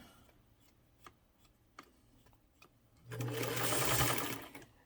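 A 1927 Singer 99 with knee lever and domed top starts after a few faint clicks, then stitches in a loud close whirring burst for about two seconds before slowing.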